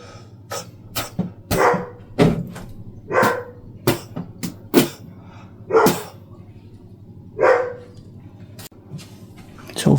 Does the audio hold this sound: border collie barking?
yes